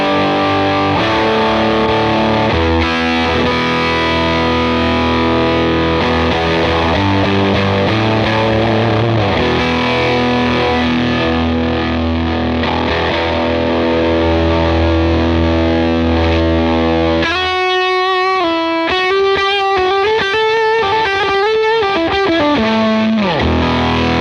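Electric guitar played through a Cornerstone effects pedal with its voice control set low, giving a loud, saturated overdriven tone with sustained chords and melodic lines, then a brighter run of picked notes near the end, with no talking.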